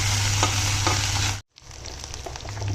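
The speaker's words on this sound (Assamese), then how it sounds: "আৰু আলুখিনি ভাজি ল'ম এতিয়া" Potatoes frying with onions in mustard oil in a wok give a loud, steady sizzle with scattered stirring clatter. The sizzle cuts out for a moment partway through, then resumes a little quieter.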